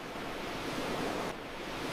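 Sea waves wash in as a soft, steady rushing surf heard from a distance, faint and breathy with some wind, and no voices.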